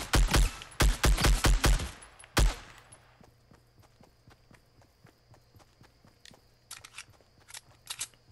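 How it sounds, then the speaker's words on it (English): Video game gunfire comes in a burst of rapid, loud shots over the first few seconds, followed by quieter footsteps and a few distant, faint pops later on. "let's put shots into him real quick"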